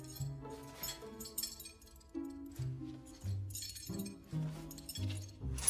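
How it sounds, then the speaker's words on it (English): Magical jangling and chiming, with bright metallic clinks and glassy tinkles layered over shifting tones, fairly quiet and continuous across the stretch with no talk. "It's like a jangling sound."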